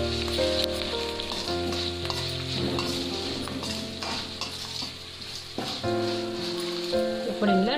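Curry leaves frying in hot oil, a continuous close sizzle with scattered stirring clinks and scrapes against the pan, no talk.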